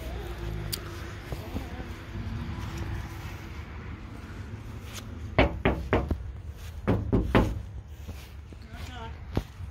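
Knocking on a door during a game of hide and seek with a grandmother, heard as a few quick raps in two short bursts, moderately close, over room noise.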